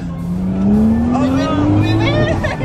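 A Nissan Skyline R33 accelerates hard from inside the cabin, its engine note climbing steadily in pitch while excited shouting and exclamations ring out over the rising roar.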